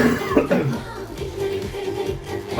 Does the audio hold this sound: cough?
yes